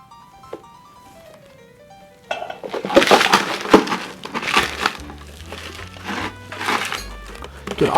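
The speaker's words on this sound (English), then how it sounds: "So the reason we use a canvas bag, or Lewis bags or canvas, because as you crush your ice" Ice being crushed in a canvas Lewis bag for a Queen's Park Swizzle, a series of loud, close crunching whacks after a quiet opening, with faint musical tones underneath.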